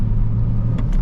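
A manual Audi's engine drones loud and steady from inside the car in Dallas rush hour traffic, with a low rumble throughout and no voices.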